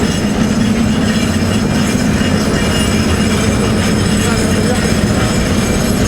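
Railway wagons at a magnesite plant's unloading point in Satka grind steadily past, a loud continuous rolling rumble with wheel squeal and clatter, close and unbroken throughout.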